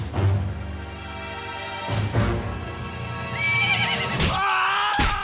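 A cartoon horse neighs loudly and repeatedly, close by, with heavy stomping impacts between the whinnies and no talking.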